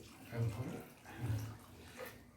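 Water is poured onto a freshly repotted hibiscus plant, giving a soft, close splashing trickle in two main surges, with quieter bursts in between.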